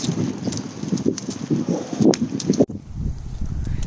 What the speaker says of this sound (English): Can you guys hear the wind?